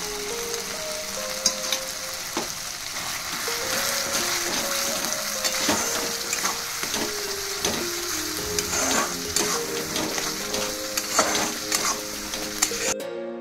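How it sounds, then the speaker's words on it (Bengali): Spice paste of ground coriander, cumin and dried chili with tomato fries in oil for a crab curry, a steady close sizzle broken by scraping stirs, with a melody playing in the background. "মশলাটা কষছে"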